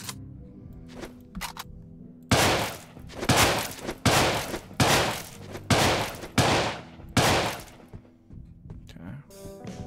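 Old-world rifle and combat shotgun fire in the game Deadbolt: a rapid run of loud, sharp reports with brief pauses, starting after a few quieter clicks and thumps.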